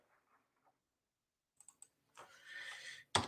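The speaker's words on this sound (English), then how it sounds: "typed in the wrong window" Computer keyboard typing during a live stock-trading show: a few faint, scattered clicks, then a louder burst of rapid keystrokes ending in one sharp final tap, with no talking.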